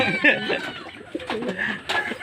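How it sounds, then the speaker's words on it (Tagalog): A pigeon or dove cooing outdoors, a few soft low rolling coos close by, with faint background noise and a brief murmur of voices. "Magandang ibon"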